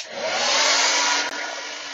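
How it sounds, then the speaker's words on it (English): A hair dryer switched to its coldest setting blows a loud, steady whooshing air stream close up, with a brief dip partway through, no talking. "I'm going to switch my hairdryer down to the coldest setting and use the cold blast to set my hair."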